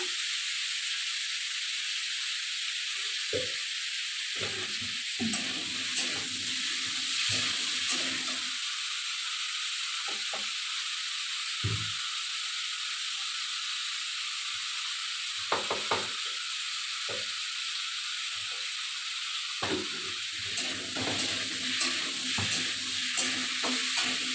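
Pumpkin frying in a wok, a constant close hissing sizzle with intermittent stirring scrapes and clatter underneath.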